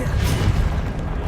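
A Confringo fire spell bursts in Hogwarts Legacy as a short, loud, dense explosive whoosh with a deep rumbling body, filling the moment without speech.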